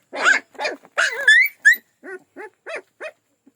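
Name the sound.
saanen dog puppies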